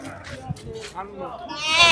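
Ram lambs bleat in short, thin cries amid nearby talking at a livestock market in Karshi, Uzbekistan, with a louder bleat near the end.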